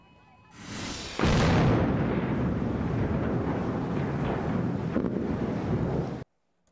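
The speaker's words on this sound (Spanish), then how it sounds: "Con explosiones como esta" A bridge's controlled demolition explosion in Maryland: a huge, sustained explosive roar erupts and rumbles on for several seconds, broad and booming, with a sharp initial blast followed by a continuous thunderous rush before cutting off.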